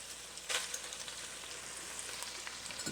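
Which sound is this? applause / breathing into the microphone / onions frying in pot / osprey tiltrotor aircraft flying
onions frying in pot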